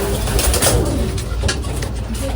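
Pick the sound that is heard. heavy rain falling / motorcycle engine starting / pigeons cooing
pigeons cooing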